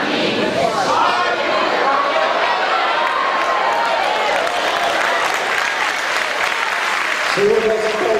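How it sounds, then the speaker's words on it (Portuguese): A church congregation claps together in sustained, dense applause during a sermon, loud and continuous with voices and shouts mixed in throughout. "nós aplaudimos o Senhor pela tua palavra"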